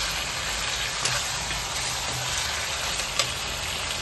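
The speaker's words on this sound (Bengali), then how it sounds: "আমরা আগে থেকে সেদ্ধ করে রাখা শিম এখানে দিয়ে দিলাম, দিয়ে আবার ভালো করে আমরা নাড়াচ্ছি সম্পূর্ণটাকে" Pre-boiled flat beans frying and being stirred in a pan, a steady, close sizzle that carries on throughout with a few faint clicks from the stirring, and no voices.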